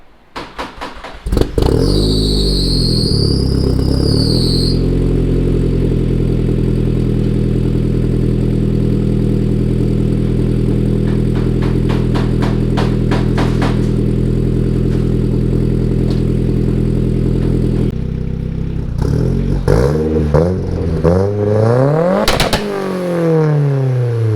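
A swapped performance car's engine cranks on a cold start, catches and settles into a steady high idle, then revs up and down several times toward the end; loud and close.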